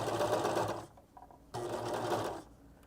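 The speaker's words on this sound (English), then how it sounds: "this is the seamed edge and the neck edge are what I'm sewing together" A sewing machine stitches a fabric seam along a neck edge, a close, steady whirring hum in two runs broken by a short pause.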